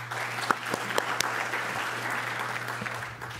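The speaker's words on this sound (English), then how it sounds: "And let's give them a round of applause as well." Moderate applause from a conference audience in a hall at a liver transplant meeting, steady clapping with a few sharper claps standing out, over a low steady hum.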